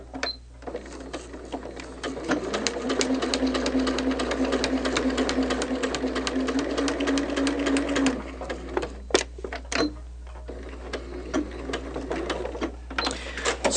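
Sewing machine stitching a seam on a quilt block, a steady fast mechanical whir lasting several seconds, then a few short bursts and clicks of back stitches, close and clear.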